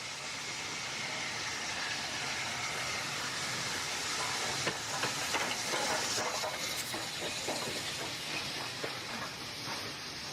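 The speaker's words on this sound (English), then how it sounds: "And it's a steam engine" A steam train passes at a charming English village, giving a continuous broad hiss with rhythmic clatter of wheels and carriages that builds midway and fades slightly, with no talking.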